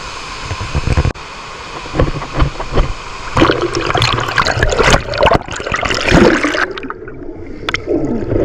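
River current rushes near a waterfall at Morias Falls in Lagkaw, a loud continuous splashing and gurgling flow close by, growing busier and more turbulent partway through.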